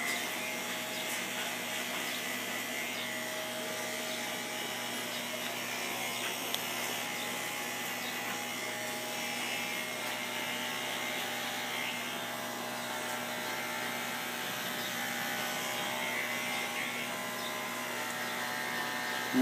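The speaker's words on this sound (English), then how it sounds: "Then I'll take the clipper blade off" Electric hair clippers running continuously during a bald fade haircut, a steady close-up buzzing whir with no talk.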